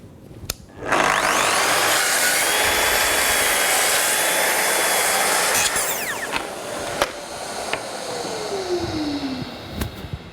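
A Festool EBQ Plus circular saw cuts across a board at 90 degrees, a loud, steady whining cut of about five seconds that then winds down, followed by a few sharp clicks and knocks.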